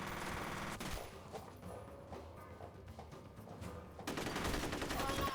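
Assault rifle fire in the shooter game F.E.A.R. crackles in rapid, even bursts, fairly quiet and steady, before a denser, louder volley at the end.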